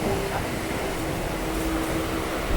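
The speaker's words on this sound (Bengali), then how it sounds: "আমাদের ট্রেনটা এখন হৃদয়পুর এসে দাঁড়িয়েছে আর ডাউন লাইনে একটা ট্রেন ঢুকছে" A crowded local train pulls into Hridaypur station on the down line while another train stands at the platform, heard as a continuous dense rumble and hum close by.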